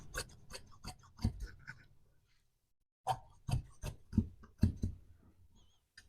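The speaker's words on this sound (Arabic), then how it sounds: "نقطع التويب ديالي بهذه الطريقه هذه" Fabric being cut for a women's shirt, a rapid series of crisp snipping and rasping scissor strokes, close up, in two bursts separated by a short pause.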